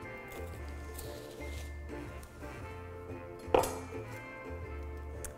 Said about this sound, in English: then we're gonna cut it in half from the root